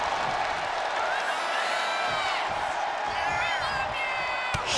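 An arena crowd in the WWE 2K25 wrestling game roars and whoops continuously, a dense, loud wash with scattered shouts and a sharp slam near the end.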